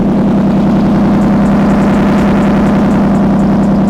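Loud car exhaust at a car meet, a steady heavy engine drone with deep rumble running continuously and close, with no talk over it.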